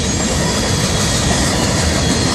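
An FEC freight train rolls past at close range carrying an end-of-train device, making a loud, steady roar of wheels and rail noise throughout.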